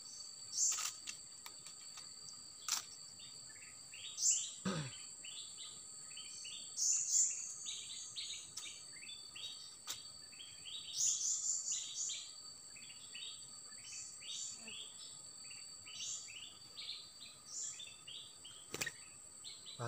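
Kutilang emas (black-crested bulbul) singing in the wild, with bright repeated chirping phrases over a steady high insect drone, cricket-like, fairly close and continuous throughout.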